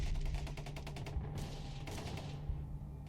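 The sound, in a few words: gunfire from soldiers' M4 carbines, M249 machine gun, Barrett rifle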